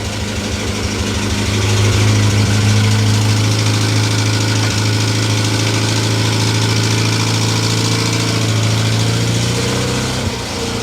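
A classic car engine idles with the choke pulled out, a loud, steady, close rumble that holds an even beat throughout with a slight settling toward the end.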